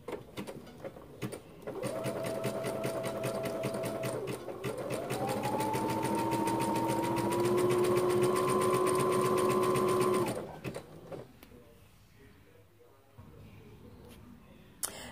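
A sewing machine stitches a T-shirt hem with a twin needle, a steady, fairly loud whirring drone that rises in pitch as it speeds up and runs for about eight seconds before stopping abruptly. Quieter handling sounds follow.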